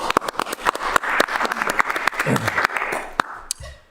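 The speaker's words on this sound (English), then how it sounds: "So a big thank you again and a round of applause." A small audience claps after a city council meeting announcement, a short scattered round of applause heard close by, with sharp individual claps and no speech.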